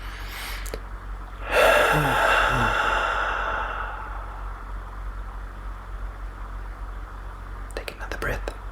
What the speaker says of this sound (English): take a deep and conscious breath